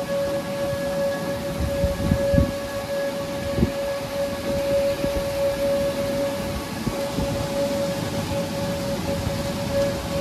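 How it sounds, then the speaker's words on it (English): A civil defense siren wails with a steady sustained tone in the distance during a December derecho in Iowa, over a constant hiss of heavy rain, with occasional soft thumps nearby. "Sirens are back on."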